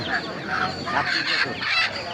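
Chickens and chicks at a village poultry market in Tangail, with close clucking and shrill peeping calls crowding together over a short stretch, amid busy background noise.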